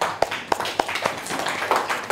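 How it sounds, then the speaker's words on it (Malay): Students in a classroom clap during a teaching simulation, a thin scattering of about seven separate, sharp hand claps spread across a couple of seconds rather than sustained applause. "Semua tepuk tangan bagi Raihan."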